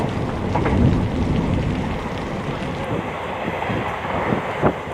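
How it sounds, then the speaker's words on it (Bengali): Heavy rain pours down in a dense, constant hiss, with a low rumble and wind gusting against the microphone. "দুপুরের পর থেকেই বেশ জোরে বৃষ্টি শুরু হলো"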